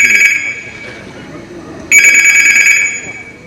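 Telephone rings in two bursts, one at the start and a longer one after a short pause, loud and close, with murmured voices faintly underneath.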